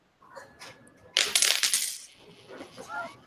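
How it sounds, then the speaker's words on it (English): Coins dropped onto a table clatter and bounce in a quick, bright burst of ringing metallic hits that scatter and settle, heard close up in a quiet room. "How many coins did you hear bouncing on the table?"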